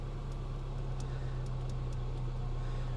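A car engine runs at a steady idle, a close low hum with faint rattling, continuous and unchanging throughout.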